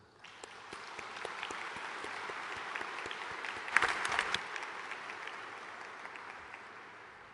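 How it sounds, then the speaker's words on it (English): An audience at the World Trade Organization MC13 ministerial opening ceremony in the United Arab Emirates claps steadily in sustained applause, swelling briefly midway before fading out. "Let us give a round of applause for our MC13 host, the United Arab Emirates, for their hospitality and warm welcome to the MC13 participants"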